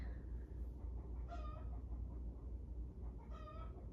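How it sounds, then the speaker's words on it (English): Backyard chickens clucking faintly in the background, two short harmonic calls heard far off over a steady low room hum, with no talk over them. "If you hear chicken in the background, my chickens are like,"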